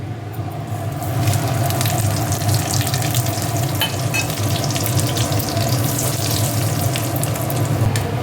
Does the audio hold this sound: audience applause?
no